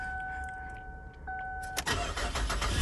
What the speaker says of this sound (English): it sounds like a regular old V6 Camaro